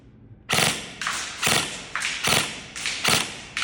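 An airsoft gun fitted with a Lancer Gen-4 Gate Aster fires at a wall in sharp single shots, each a crisp snap with a thud, about two per second, close and loud.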